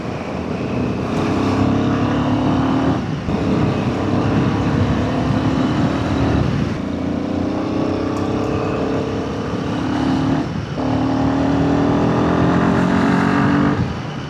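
A Royal Enfield Himalayan 450 motorcycle ridden on a hill road toward Nuwakot, a loud, steady engine drone with a few short dips in pitch as gears shift, heard throughout amid wind noise.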